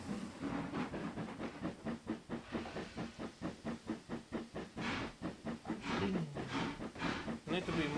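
Diesel locomotive in the Trainz 22 simulator pulling away from a station, a steady chugging engine rumble with regular rhythmic beats and a hissing wash layered over it, while someone talks throughout.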